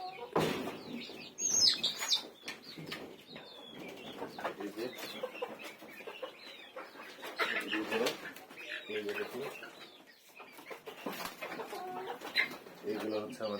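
Three-month-old chickens on a poultry farm cluck and chirp close by in irregular bursts, with someone speaking among the birds.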